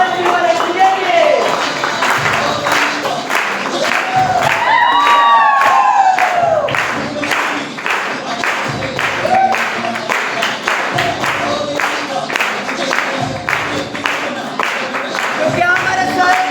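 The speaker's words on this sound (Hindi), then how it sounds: "आप सभी के एक बार फिर से जोरदार ताली के साथ" A stage-event audience gives loud applause and cheering, with dense rapid clapping, scattered whoops and shouts rising over the crowd, sustained across the whole stretch.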